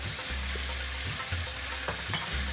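Beef stir-frying over very high heat in very hot sunflower oil, a steady loud sizzle with occasional stirring scrapes and spatters, close and without talk.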